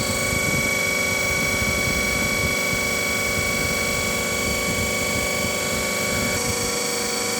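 A DC machine runs at 1500 RPM in a lab test, giving a steady, loud electrical and mechanical drone with a constant pitch and no break or talk throughout.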